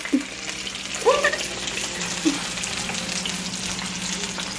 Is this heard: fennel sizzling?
yes